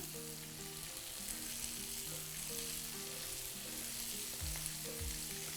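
Swiss chard stems and greens frying in a pan for a veggie shakshuka, a constant close sizzle with soft stirring scrapes and low tonal hums underneath, no voices.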